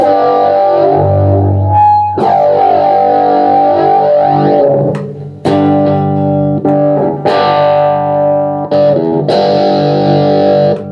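An electric guitar played through a DigiTech RP100A modeling guitar processor pedal on its echo setting: loud, distorted sustained chords with repeating echo tails, struck in several separate phrases with short breaks between them.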